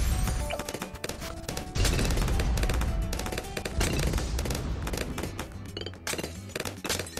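Towers firing guns in the tower defence game Bloons TD 6, a rapid, dense barrage of thumping shots and pops in fast irregular bursts, loud and continuous with no voice present.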